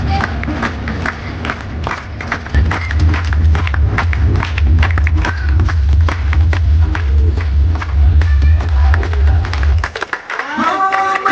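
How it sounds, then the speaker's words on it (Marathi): A crowd claps at a Republic Day gathering in a housing society, with sustained rhythmic applause and a loud low hum underneath for about ten seconds before it fades out. "सर्वांनी टाळ्या वाजवायचे."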